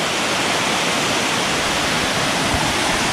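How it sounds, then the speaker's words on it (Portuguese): A waterfall on the Praia Branca trail in Guarujá: loud, steady, broad rushing of falling water, close by and continuous, drowning out all other sound. "Cachoeira, galera."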